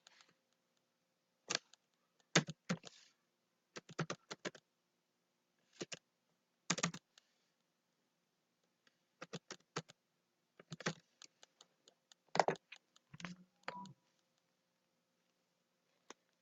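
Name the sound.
typing on a computer keyboard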